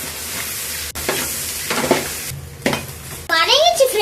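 Ginger garlic paste sautéing in a pan for homemade mixed fried rice with mutton, chicken, egg and prawn, with a steady close sizzle, stirring scrapes and clinks of a utensil against the pan, plus a brief high squeal near the end.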